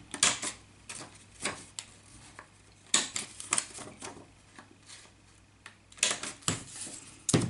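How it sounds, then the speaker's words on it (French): A small corner-cutting punch snips the corners of paper envelopes, producing sharp, close clicks and clacks in irregular bursts with short quiet gaps between them and no speech. "vous mettez votre petit outil et vous venez couper vos angles"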